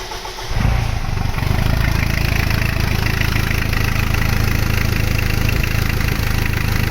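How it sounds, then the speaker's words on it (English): A car engine turns over and settles into a steady, loud idle during a battery charging test, a brief starter crank followed by an even, continuous rumble. "So start the engine,"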